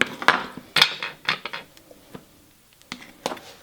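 A knife slicing a small piece of bell pepper on a board: a few sharp clicks and taps of the blade striking the surface, spaced irregularly and close, with quiet gaps between.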